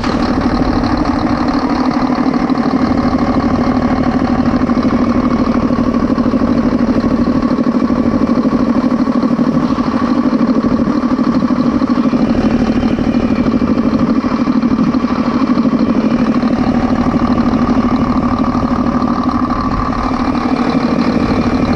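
A Mercedes Actros truck with an OM502 engine that had run away runs continuously at a rough, steady idle, loud and close, its low drone constant throughout with no speech over it.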